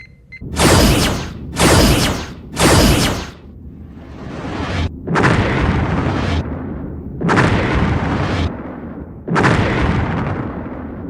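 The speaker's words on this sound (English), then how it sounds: "Raise shields, arm phasers and torpedoes and blow that thing out the stars." Starship phasers and torpedoes firing in a sci-fi space battle: three loud whooshing blasts in quick succession, then three longer roaring discharges spaced a couple of seconds apart, with a low rumble between them.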